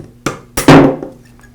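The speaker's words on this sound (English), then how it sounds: "now you can use a punch and a hammer to remove the armature" Three sharp metallic hammer strikes on a punch against a Porter Cable sander armature, the last the loudest with a ringing decay, close up and without voices.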